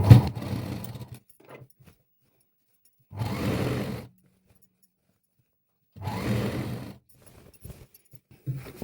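A sewing machine stitches a drawstring casing on a petticoat in three separate bursts of rapid motor-driven whirring, each about a second long, with quiet pauses and faint handling clicks between them.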